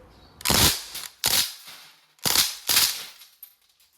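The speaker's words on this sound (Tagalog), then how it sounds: "Okay, switch tayo sa full automatic. Okay, and firing." A black SBR CO2-powered airgun rifle fires on full automatic in four sharp, close bursts of pops spaced about a second apart, each with a brief clattering tail, and no talk over them.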